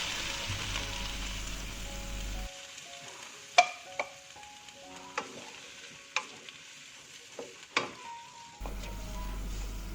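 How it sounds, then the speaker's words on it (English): Water with soy sauce boils in a pan of sautéed cauliflower. A bubbling sizzle opens and closes the stretch, and a quieter middle is broken by a few sharp utensil clinks. "Now the water is boiling."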